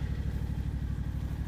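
A dirty tractor engine drones steadily while brush hogging grass and a widened trail around trees, a loud, close, continuous low rumble with a fast throbbing pulse and no voices.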